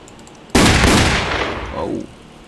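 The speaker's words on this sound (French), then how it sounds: "On entend des coups de feu." Gunfire in a Roblox video game, a sudden loud burst that erupts and sustains as a dense, rattling volley for about a second and a half before cutting off abruptly.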